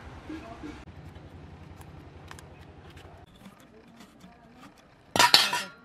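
A fork pricks raw green mangoes for murabba, producing faint, irregular metallic taps and scrapes against a dish, with a louder clattering clink near the end, while someone speaks intermittently.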